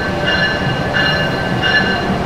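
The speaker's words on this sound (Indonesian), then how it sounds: "Nah, ini dia kereta kita." A train at Semarang Tawang station rumbles steadily, with a continuous rolling roar and faint high squeals that recur at regular intervals, loud and close, with no voices.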